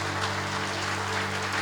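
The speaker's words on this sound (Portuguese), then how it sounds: "Aplauda Jesus de Nazaré" Church congregation applauding during a service, a steady wash of many hands clapping evenly at moderate loudness, with a sustained organ-like tone underneath.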